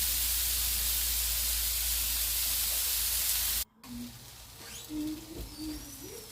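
Chicken seekh kebabs frying on low to medium heat, a steady close hiss and sizzle of oil that cuts off abruptly partway, followed by quieter kitchen sounds and faint cooing in the background.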